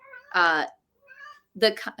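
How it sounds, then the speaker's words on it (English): A house cat meows close by, three short, tonal cries spaced apart with brief silences between them in a quiet indoor space. "my cat is going crazy"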